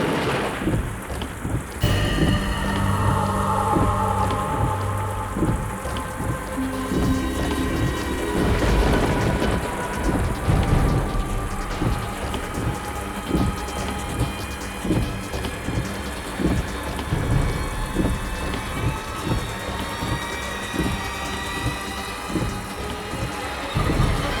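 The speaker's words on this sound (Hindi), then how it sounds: "इतनी तेज बारिश हो रही है" Heavy rain pours steadily throughout, with loud rumbling thunder rolling in near the start and again midway.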